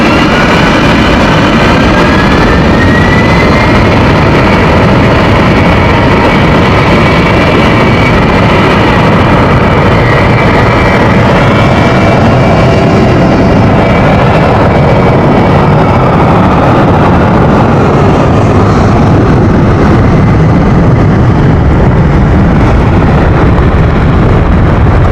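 A jet aircraft takes off from runway 09 at London City Airport, its loud, steady engine roar filling the air and slowly rising in pitch before easing off as it climbs away.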